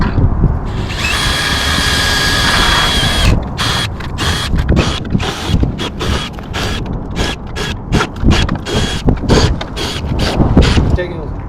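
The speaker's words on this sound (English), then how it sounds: "take the drill, pre-drill your mounting holes for your leg bolts" A power drill pre-drills mounting holes for leg bolts in the curb of a metal-framed polygon skylight, first as a steady whine and then as a run of short, close, rapid bursts.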